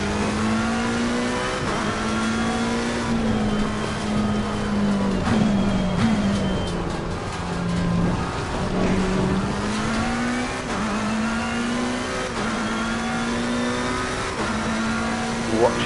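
A race car laps the Paul Ricard circuit, its engine note rising and falling steadily through corners and straights, loud and continuous from onboard.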